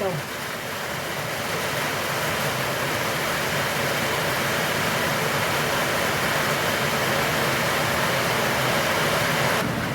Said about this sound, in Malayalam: മഴ പെയ്യാൻ തുടങ്ങി